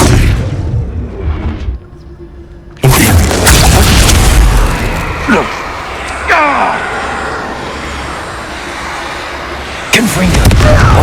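Bombarda spell explosions in Hogwarts Legacy sound as loud, heavy booms with crashing bursts. An abrupt blast cuts in after a quieter stretch, a rumbling tail follows, and another sharp boom closes it out.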